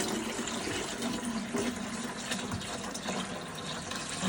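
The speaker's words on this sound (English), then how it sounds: "So I'm gonna go ahead and add the water." Water pours steadily into the reservoir of an X20 water device, a continuous close, moderately quiet splashing fill with no talk over it.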